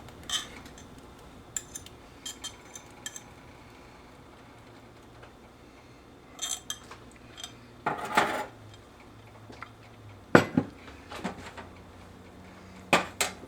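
A spoon stirring cornstarch into corn soup in a cast iron pot, sparse metallic scrapes and clinks scattered through a quiet stretch, with a few louder knocks toward the end.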